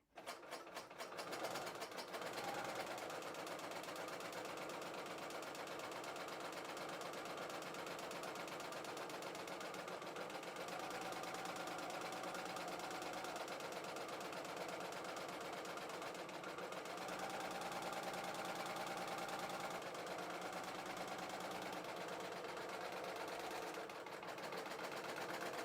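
A serger sewing machine runs steadily through fabric with differential feed, a dense continuous whirring hum that starts abruptly and holds at an even, close level for the whole stretch, with no voices.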